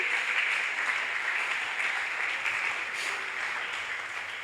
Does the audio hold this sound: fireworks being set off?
no